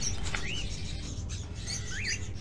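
Birds chirp faintly in a scene from Fahrenheit: Indigo Prophecy: a few short, thin rising tweets spaced well apart, set against a steady low background hum.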